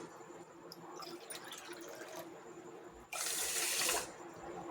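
Water pours onto sugar in a pan for gulab jamun syrup, a soft trickle first, then a louder gushing splash for about a second near the end.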